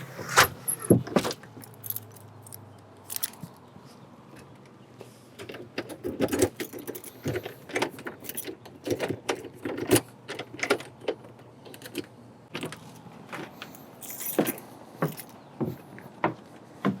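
A bunch of keys jangles as it is picked up, then more scattered metallic clinks and rustles, close and fairly quiet, spread irregularly across the stretch with no talking.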